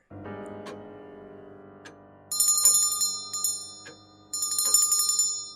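A small bell rings in an audio drama, its bright metallic jingle coming in two shaken bursts with lingering ringing tones between, clear and close with no talk.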